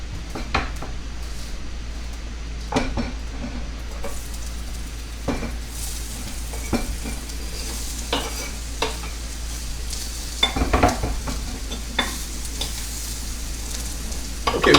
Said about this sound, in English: I'm going to throw a little oil on that white Corel here in the front. At level 3, we're going to throw those onions on there.